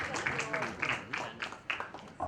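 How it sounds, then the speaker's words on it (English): Scattered applause from an audience at a breast cancer awareness campaign launch, short uneven bursts of clapping that rise and fall against a busy room. "A huge round of applause to Sagar Kachri."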